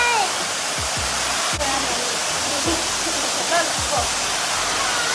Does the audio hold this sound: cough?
no